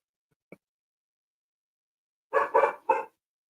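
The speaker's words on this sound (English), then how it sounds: "our dogs are barking at them" Household dogs bark at neighbors, one faint yip early on followed by a close run of three loud barks in quick succession after a stretch of silence.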